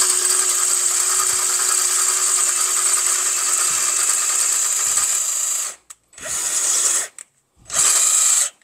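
A power drill whines steadily while boring through metal during a car rear disc brake conversion, loud and close, then stops and restarts in two short bursts.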